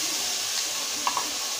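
Mango pieces dropped into a hot frying pan give a steady, close sizzling hiss that stays even throughout, with a couple of faint clicks near the middle.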